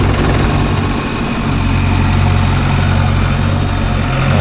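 A JCB 3DX backhoe loader's diesel engine runs continuously and loudly up close, a heavy low rumble with vibration and no speech.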